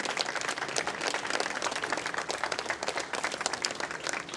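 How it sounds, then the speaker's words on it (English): An audience at an outdoor monument unveiling claps steadily and loudly, a dense, continuous round of applause with no voices standing out. "please, another big round of applause for Mr. Lynd"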